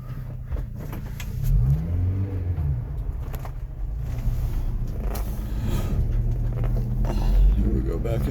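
A 1992 Subaru Sambar KS4 minitruck idles and pulls forward, its small engine giving a steady close rumble with mild revving under muffled movement noise.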